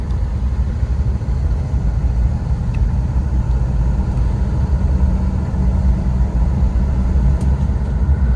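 A 1962 AMC Rambler Ambassador V8 wagon with 85,000 miles cruises straight down the road, a steady low engine rumble and road roar heard from inside the car, with no talking.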